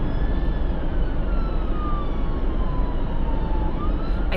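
A fire engine siren wails past on the road during a road trip, loud and close, its tone sliding downward as it passes over steady, heavy traffic rumble.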